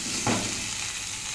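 Chili paste sizzling and frying in a pan with poppy seed paste while it is stirred, giving a steady close hiss with a brief scrape of the spoon.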